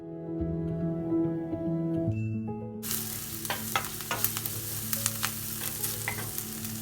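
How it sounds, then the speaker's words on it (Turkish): Music plays at first, then a pan sizzles steadily as chopped green and red peppers fry for ratatouille, with scattered sharp clicks and scrapes of stirring. "3-4 adet doğradığımız yeşil sivri biberleri ve 1-2 adet kırmızı biberleri ilave ediyoruz ve biraz daha kavuruyoruz"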